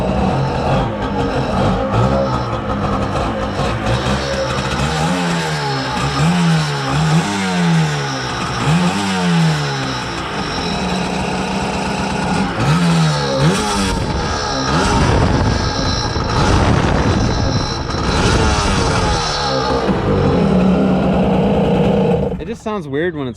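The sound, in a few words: Kawasaki 550SX jet ski engine idling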